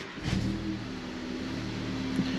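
A VW Polo engine turns over and catches in cold weather, then settles into a steady, rumbling idle close by with a slight rev near the end.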